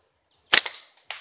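A slingshot fitted with a Theraband Gold band fires at a dry stick: one sharp, loud snap and crack, then a quick decaying rattle and a smaller click about half a second later, with no talking.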